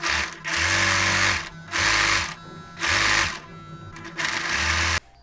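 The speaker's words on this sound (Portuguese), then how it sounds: "Eu vou franzir o filó direto aqui no ultralock" An overlock machine gathers tulle fabric in four loud, steady whirring bursts of stitching, each lasting about a second with brief pauses between runs.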